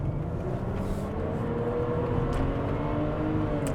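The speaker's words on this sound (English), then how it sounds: "That noise you just heard is not actually the fault of the car." A SsangYong Chairman sedan accelerating, its engine note rising under a loud whirring fan, a continuous rumble with faint whooshes.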